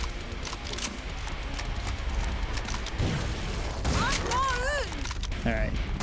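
In the video game Killing Floor 2, bursts of shotgun fire and impact booms blend with game effects and warbling sounds, steady and fairly loud, while someone talks over the action.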